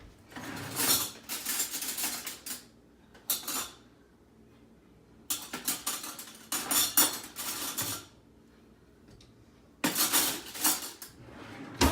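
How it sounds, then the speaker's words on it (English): Spoonfuls of thick cake batter fudge are scraped and tapped into pans, bursts of metal clinks and scrapes in irregular clusters separated by short quiet gaps, close and fairly loud. "I'll just put half in this pan and half in this pan"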